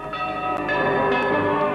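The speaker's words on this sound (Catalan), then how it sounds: "Voltejar de campanes" Church bells ring loudly and continuously at a village festival, their overlapping metallic tones clanging together in a rich, sustained peal.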